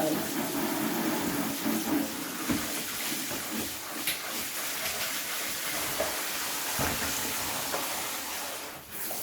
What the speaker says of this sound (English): Shower is now back on, and just going to put some water in the bucket like so.